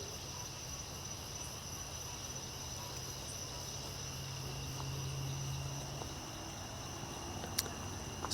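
Crickets chirp in a steady, high-pitched drone that continues evenly throughout, with no other sounds standing out.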